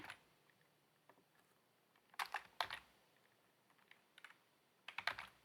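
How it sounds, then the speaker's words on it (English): Quiet clicks of a computer keyboard during computer work come in scattered bursts of typing, with sharper clustered keystrokes and pauses between them, close but faint. "My keyboard does not want to hit paste today for some reason."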